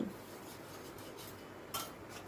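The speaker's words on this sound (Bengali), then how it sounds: "দিয়ে আবারও সব কিছু ভালো করে মিশিয়ে নিচ্ছি" Chicken with spices and chicken stock being stirred in a pot: soft, close scraping strokes of a utensil, with a brief louder scrape near the end.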